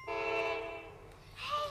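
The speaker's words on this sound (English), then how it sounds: "It's a train." A train horn sounds briefly and fairly near, a sustained harmonic blast that fades over about a second, followed by a softer rising tone as the train moves on.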